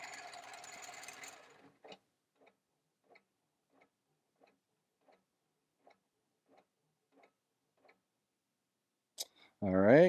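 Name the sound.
Pro-Stitcher quilting machine stitching a quilt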